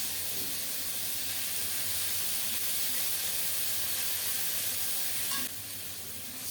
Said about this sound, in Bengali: এখন দিচ্ছি বেটে রাখা আদা জিরা আর কাঁচামরিচ